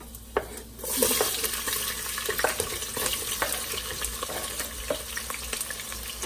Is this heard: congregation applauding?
no